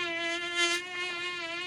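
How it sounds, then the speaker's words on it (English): A swarm of bees, drawn to a sweet-smelling daisy, buzzes in a steady, close, high-pitched drone with no other sounds present. "Bees!"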